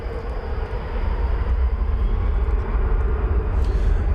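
A Boeing 777-200ER airliner at DFW Airport gives a loud, steady broadband engine roar with a faint high whine, sustained without a break and no talking.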